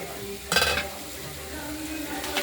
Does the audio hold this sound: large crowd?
no